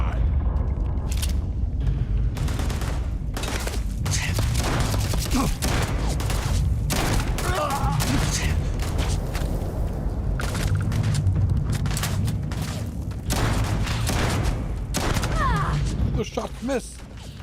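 Rapid gunfire in a video game with the Terran Armada DLC: dense, repeated sharp shots and booming blasts fire continuously over a heavy low rumble, loud and close throughout.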